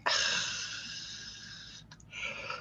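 A long, drawn-out voiced yawn close by, fairly soft, trailing off and then followed by a brief breathy exhale.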